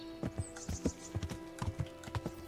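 Horse hooves clip-clop in an irregular walking rhythm in the video game Kingdom Come: Deliverance, crisp and fairly close, with a faint tonal hum in the background.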